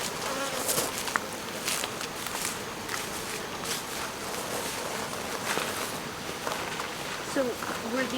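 Honeybees buzz around an open hive during a honey harvest in Hawaii, a dense close drone with scattered clicks and handling noises, while people talk in the background.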